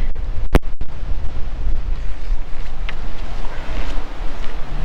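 Strong, gusty wind buffeting a GoPro on a golf course at Church Stretton, a loud rumbling low roar with one sharp knock early on and no speech.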